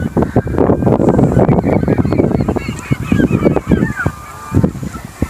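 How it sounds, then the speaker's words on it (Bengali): Many geese and pelicans at Frank Lake call together in a loud, dense chorus of overlapping honks close by. Light wind noise runs underneath. "পাখির কিচিরমিচির এখান থেকে স্পষ্ট শুনতে পাচ্ছি।"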